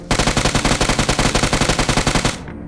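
Rapid sustained automatic UMP submachine gun fire in PUBG Mobile, a loud, even stream of shots lasting over two seconds before cutting off, with no talk.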